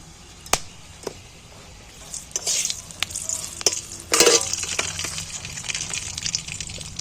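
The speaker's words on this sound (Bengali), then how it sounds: "এখানে দেখো দুটো তেজপাতা দিয়েছি দিলিয়ে একদম চড়াম করে উঠবে" Bay leaves with cardamom, cinnamon and cloves sizzle in hot oil for a chicken dish. Sharp isolated pops come first, then bursts of louder sizzling and stirring scrapes build up close by.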